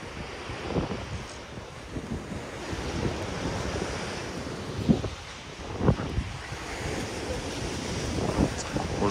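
Stormy Black Sea waves surge and break on the shore at the Olympic embankment in Adler, with a constant roar, repeated crashes and wind buffeting the microphone.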